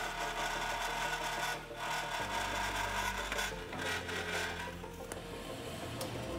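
Hand sawing of an aluminum workpiece clamped in a vise, lubricated with aluminum cutting fluid: a steady raspy stroking runs throughout at close range, with a low hum underneath.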